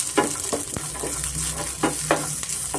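Chana dal, urad dal, green chillies, grated ginger and curry leaves frying in hot oil, a steady close sizzle broken by several sharp stirring scrapes of a spoon against the pan.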